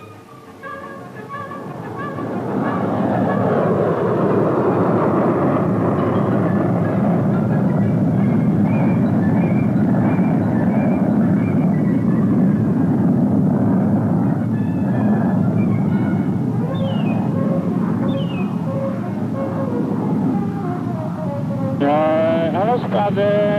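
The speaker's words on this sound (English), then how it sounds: "CF-100 and Sabre chase planes take off for visual and photographic observation of the flight" CF-100 and Sabre chase planes take off on an Avro Arrow test flight, with a loud, sustained jet roar building from near silence. A narrator speaks over the roar.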